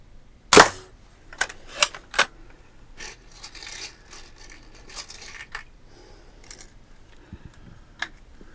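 Target shooting produces one sharp, loud shot crack, followed by a few lighter snaps and small clicks and handling rustles spread over the rest of a quiet stretch.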